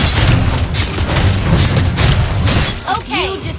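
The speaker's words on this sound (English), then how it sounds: "You destroyed a turret." A turret being destroyed in Mobile Legends: a loud booming explosion with rumbling debris over the first seconds, followed by short chiming game effects.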